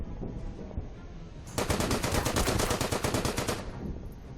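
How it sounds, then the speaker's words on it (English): A machine gun strafing run in the World War II strategy game Order of Battle: Blitzkrieg, with a rapid, evenly spaced burst of loud shots lasting about two seconds over a steady background rumble. "Strafing run."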